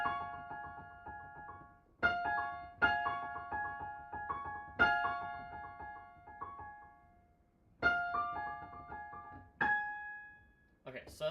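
Piano etude passage played back, with crisp struck chords and runs of quick repeated notes in several bursts, each ringing and decaying before the next phrase, moderately quiet and without talk.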